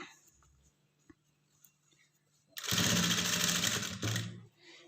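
A sewing machine stitches a dart in the cup of a bra-type blouse, running in one loud, steady burst of about a second and a half after quiet handling, then stopping.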